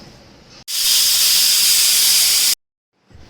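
A pressure cooker holding mutton Champaran over a medium flame lets out one loud, sharp blast of hissing steam that lasts about two seconds. Quiet kitchen sound comes before it, and near silence follows.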